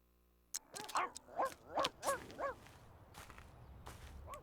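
A dog in The Sims Pet Stories life-simulation game yaps five times in quick succession, fairly quiet and slightly distant, followed by a few faint clicks and low background hum.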